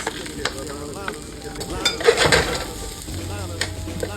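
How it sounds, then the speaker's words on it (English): Ginger, onions and red peppers stir-fried in a wok for a cumin lamb dish, giving a steady sizzle with scraping stirs and clinks of a utensil against the pan, close and continuous. "Let's add that ginger and those onions and the red peppers."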